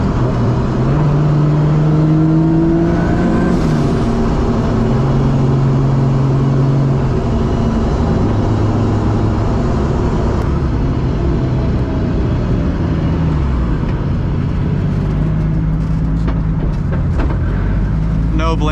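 A Volvo 240 cruising with a Nissan 350Z differential swapped in, its steady road and drivetrain drone carrying a faint whining hum throughout, close and continuous, with a person talking over it.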